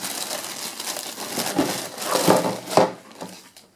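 Crinkling and rustling of a plastic bag, with a few sharper crackles as it is handled, close up and fairly quiet.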